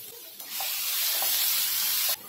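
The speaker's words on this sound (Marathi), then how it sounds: "आता आपण इथे टोमॅटो टाकून घेऊया।" Tomatoes dropped into a pan of roasted masala for a drumstick curry burst into a loud, steady sizzle that swells after a brief quiet start, holds evenly, then cuts off near the end.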